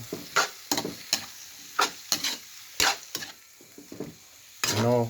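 A home-cooked dish sizzles in a pan while a utensil stirs it, making irregular scraping and clattering strokes over the frying.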